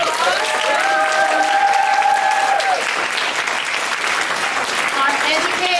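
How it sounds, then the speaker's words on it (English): Audience applause for debaters at an evening debate event, steady dense clapping sustained throughout, with voices, cheers or whoops rising over the crowd noise. "our debaters, Danielle and Rachelle, can we give them a round of applause?"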